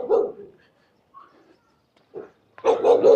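A dog barks in short, sharp bursts separated by brief pauses, close by on a morning walk in Innisfail, Australia, with a louder run of barks at the end.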